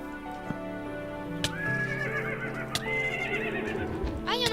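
Two hostile horses in a video game whinny and neigh, with clip-clop hoof sounds and bright rising and falling neighs, loudest near the end, alone without speech.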